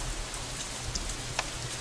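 Steady, soft rainfall from the Katawa Shoujo visual novel: a faint, even hiss of drops with a few slightly sharper patters, heard alone without any voices.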